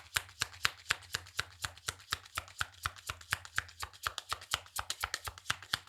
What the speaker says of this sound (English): I'm just going to shuffle the whole deck